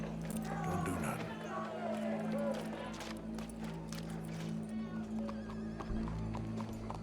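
Horse hooves clip-clop steadily in the video game Red Dead Redemption 2, with rhythmic hoofbeats over a low background hum and faint crowd ambience.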